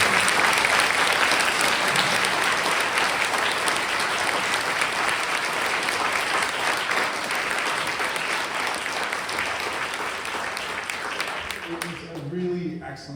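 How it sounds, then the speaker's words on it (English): A large audience at a candidate forum for a California State Senate District 24 race applauds loudly and steadily, dense clapping that holds for about eleven seconds before thinning out, with a few voices emerging as it fades. "how about a big round of applause for that?"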